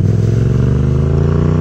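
Yamaha FZ07 motorcycle engine held at high revs, loud, close and steady with a rough throbbing pulse and no talk over it.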